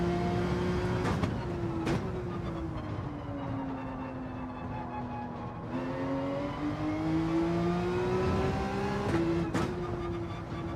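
A Porsche GR.3 race car engine in Gran Turismo 7 drones steadily under load, its pitch sagging and rising through gear changes. Sharp shift clicks punctuate the run, with no voices over it.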